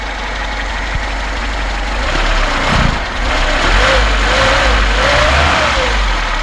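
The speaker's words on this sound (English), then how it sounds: "The engine is still cold and I don't have a choke on it, but it responds to throttle very, very nice." A cold 1983 Lada VAZ 2106 engine running without a choke, rising and falling as the throttle is blipped, steady and close with a rougher surge midway and smooth revving toward the end.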